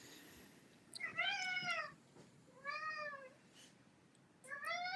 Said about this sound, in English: The cats have thoughts.